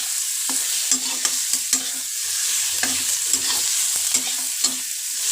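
Potatoes frying in a pan for aloo dum, stirred with a utensil: a steady sizzle runs throughout, with repeated scraping strokes and light clinks at an irregular rhythm, close and fairly loud, no voices.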